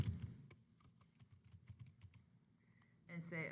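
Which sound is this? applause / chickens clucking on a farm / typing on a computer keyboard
typing on a computer keyboard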